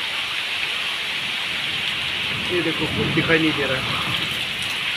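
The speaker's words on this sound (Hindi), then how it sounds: "हवा चल रहा है, बारिश आ रहा है," Heavy rain and wind in a storm in Dharamshala, Himachal, make a dense, steady roar throughout, with someone talking briefly over it partway through.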